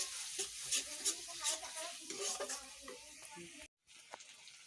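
Masala for an Odia mutton curry fries and gets stirred in a pan, a soft hiss with rhythmic scraping of the spoon, while a voice talks over it before a brief cut to silence.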